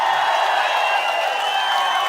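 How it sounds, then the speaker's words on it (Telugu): A large crowd at an outdoor political rally claps loudly and continuously, a dense steady wash of applause with no pauses. "గట్టిగా చప్పట్లు కొట్టి మేము ఆశీర్వదిస్తాం"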